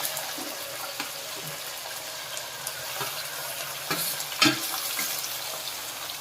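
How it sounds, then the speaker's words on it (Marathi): Mutton is added to onion in hot oil and stir-fried in a pan, a steady close sizzle with scraping stirs and occasional clanks of the spoon. "आपला कांदा परतून झालेला आहे तरी आपण मटण कांद्यामध्ये घालूया"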